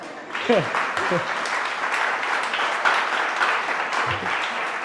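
A church congregation applauds during a sermon, steady crowd clapping that carries through while a voice speaks briefly over it a few times.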